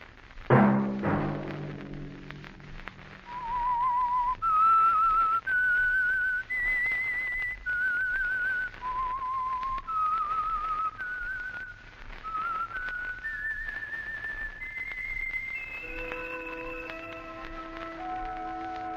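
A single person whistles a slow, clear melody of sustained notes rising and falling, alone in a quiet space, ending on a held tone; the signature theme of the 1951 radio drama The Whistler.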